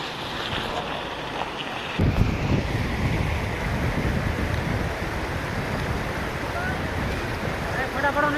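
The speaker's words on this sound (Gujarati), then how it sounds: "જો મિત્રો પાણી આવે છે" Water rushes steadily at a dam near Droneshwar Mahadev in Gir Gadhada, a loud broadband roar that swells after a quieter start, mixed with wind buffeting the microphone.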